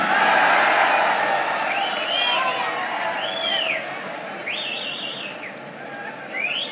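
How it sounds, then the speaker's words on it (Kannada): Large audience at a political speech by a Chief Minister erupts in sustained clapping mixed with loud whistles. The dense crowd noise is strongest at the start and fades slightly as the whistles rise and fall. "ಹೊಡಿರಿ ಚಪ್ಪಾಳೆ."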